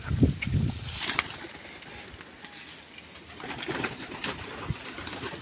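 Racing pigeons at a loft in summer heat, with soft cooing and brief bursts of wing flapping up close, over a low outdoor background.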